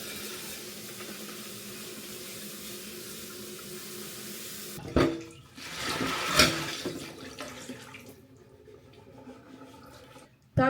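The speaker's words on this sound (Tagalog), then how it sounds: "Hugasan ko muna bago ko siya ikat." Food is washed under running tap water in a home kitchen: a steady stream hisses for several seconds, then splashing and clattering as the food is rinsed, ending abruptly.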